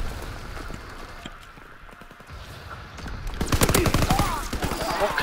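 Rapid bursts of PPSh submachine gunfire in a World War II shooter game at Pointe du Hoc, scattered faint shots at first, then a loud sustained fusillade of close, dense automatic fire.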